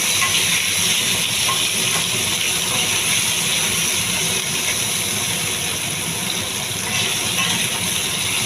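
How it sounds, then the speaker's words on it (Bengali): Loud, even hiss of vegetables frying under a lid, a continuous steamy sizzle throughout with no voices. "এভাবে আমি বেগুনটা আস্তে আস্তে ভেজে নেব"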